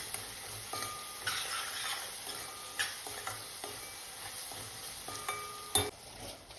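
A spoon stirs cumin and coriander powder into sprouted-bean usal with tomatoes in a pan, giving soft, close scraping and clicking over a steady low sizzle.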